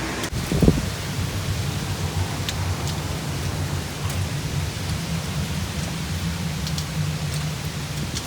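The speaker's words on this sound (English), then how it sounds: "it has been raining all night" Heavy, steady rain from Typhoon Hagibis in Japan pours down in a dense, continuous wash with low rumbling undertones, preceded by a brief knock near the start and with no voices.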